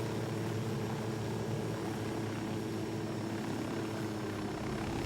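Steady, loud engine drone of an aircraft in a video game, a continuous rotor-like hum with a constant tonal whine and no change in level, heard alone without talk.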